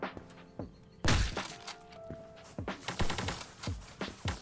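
Rapid sharp gunshots and impact cracks from the online shooter game Krunker, a sniper-focused match, with several loud bursts and clustered reports in quick succession.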